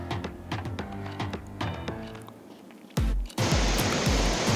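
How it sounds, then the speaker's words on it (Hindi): Roar of the Saraswati river near Bhim Pul at Mana village, Uttarakhand: after some rhythmic tonal sounds, a loud, dense, steady rushing roar suddenly swells in and dominates. "और अब आप देखिए सरस्वती नदी का शोर।"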